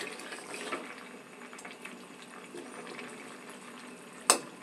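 Potato curry with fritters simmering in a pot, a soft steady bubbling close by and fairly quiet, ending with a brief sharp clink.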